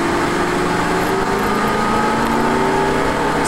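A Lamborghini Gallardo accelerates at full throttle on a track, its engine a loud, sustained drone heard from inside the car with a steadily climbing tone.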